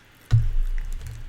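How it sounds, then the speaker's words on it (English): Water being drunk during a live eating show, a short gulp with a low liquid swallow that starts abruptly and lingers softly, close to the microphone with no talking. "Let me drink some water."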